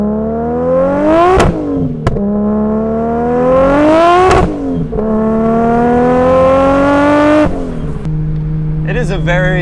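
A 500 hp Nissan 240SX S14 with a swapped GT-R engine revs hard through several rising pulls, each climbing in pitch before sharp shifts, loud and close, then settles into a lower drone with a brief burst at the end.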